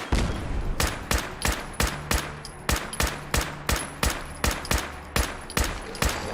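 Gunfire in Fallout 4 opens the fight after a thrown grenade: a steady series of sharp, loud shots about every third of a second, fairly close and with no talk over them.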